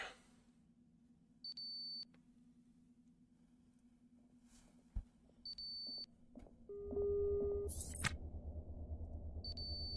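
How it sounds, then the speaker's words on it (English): Short electronic beeps from a CO2 alarm in the space-survival game Ostranauts, sounding in regular bursts every few seconds over a low hum, followed by a rushing air noise and a sharp hiss. "my O2 alarm, or my CO2 alarm is going off"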